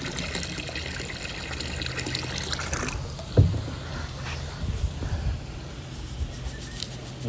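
Liquid chlorine, about a gallon, is poured from a jug into a green swimming pool after algae killer, a continuous close gurgling pour and splash with a sharp thud midway, no talk.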